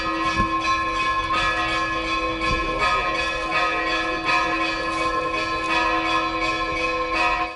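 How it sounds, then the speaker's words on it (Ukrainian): Church bells of St. Elijah Cathedral ring out in a steady, sustained peal, with overlapping struck tones and long resonant hum filling the whole stretch at a moderate, even level. "Під дзвони Святоїлінського собору"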